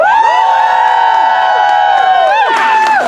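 A theatre audience at a Shakespeare performance of Julius Caesar cheers and whoops loudly and without pause, many high, wavering voices layered together in a dense, sustained roar of excitement.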